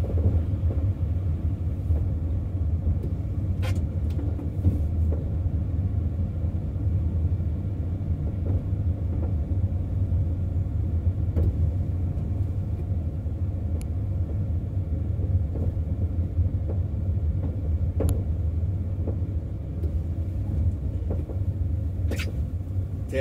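Mercedes-Benz Sprinter van driving through snow at 30 km/h at night in Torfhaus in the Harz, a steady low road and engine rumble heard from inside the cab, with faint occasional clicks and no speech.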